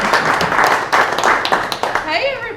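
Audience applause at a Rotary Club meeting in Jonesboro, a steady burst of clapping from a room full of people that fades as a speaker begins talking near the end.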